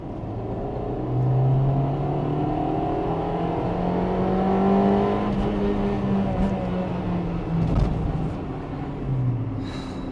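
A 1998 Honda Integra Type R engine revs hard while driving, its steady, loud note climbing and holding through the rev range with brief shifts and a settling drop near the end. No talk over it.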